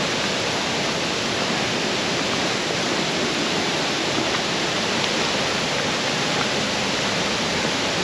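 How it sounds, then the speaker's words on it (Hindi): Sajikot waterfall in a valley reached by a short downhill walk, its broad, steady roar of falling water rushing continuously and evenly with no voices. "वादी के हसीन मनाजिर और झरने की आवाज़ बहुत पुरसकून माहौल मुहैया करते हैं"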